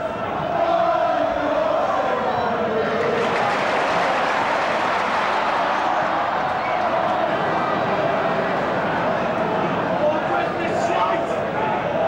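A football crowd roars and murmurs in a broad, sustained wash of noise at the 1991-92 FA Trophy final featuring Colchester United, loud and continuous beneath a commentator's voice.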